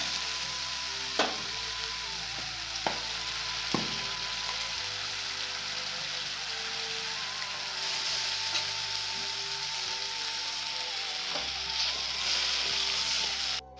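Potatoes sautéing in a pan with ginger and turmeric in a home mess kitchen, a steady moderate sizzle throughout with a few sharp clinks of a spatula against the pan.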